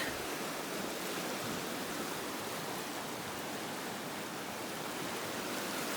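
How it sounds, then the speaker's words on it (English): Fast water rushes in a steady, close roar from an energetic mountain creek near Mount Assiniboine tumbling over rocks, continuous and unbroken without any voices. "Pretty energetic little creek."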